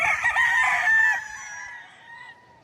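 Gamefowl rooster crowing at a farm among chickens, one loud, close cock-a-doodle-doo that trails off, with faint clucking underneath.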